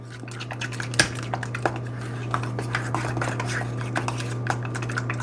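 A fork clinks and scrapes around a bowl as cream cheese zucchini bread batter is stirred, giving light, irregular taps over a steady low hum from nearby kitchen equipment.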